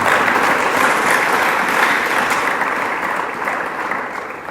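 A church congregation claps for the Lord in loud, dense, continuous applause that holds steady and eases slightly toward the end.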